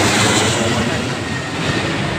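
A steady, loud broadband roar of an airplane passing low over a house near the end of a runway, sustained throughout with no pauses and no one talking.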